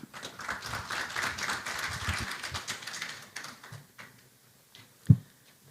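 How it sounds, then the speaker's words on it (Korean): Audience applause at a cultural heritage policy symposium, a moderate patter of clapping that fades out after a few seconds, followed by near silence and a single sharp knock. "여러분 박수 부탁드리겠습니다"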